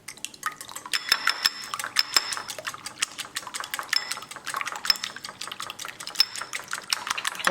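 Eggs being beaten for lobster scrambled eggs, a quick steady clatter of a utensil striking the bowl in rapid rhythmic ticks, close and fairly loud, with no talking.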